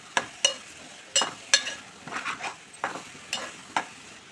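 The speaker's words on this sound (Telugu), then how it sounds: "ఫ్రై అయ్యి ఆయిల్లో బీరకాయలు వేసుకుందాం" Ridge gourd fries in hot oil under a soft sizzle while a spatula strikes and scrapes the pan in sharp, irregular knocks, around ten clear hits at close range.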